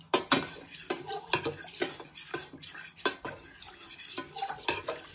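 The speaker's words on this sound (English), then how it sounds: "So you just keep stirring it on a medium heat so it starts to thicken." A utensil stirs gravy in a pan on a stovetop hob, making repeated clinks and scrapes against the metal in an irregular rhythm, close and clear, with no talking.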